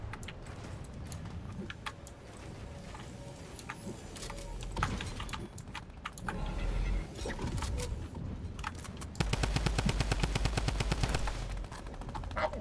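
Rapid automatic drum gun fire in a video game bursts out in several volleys, ending in a long, dense stream of evenly spaced shots, loud and close over faint game ambience.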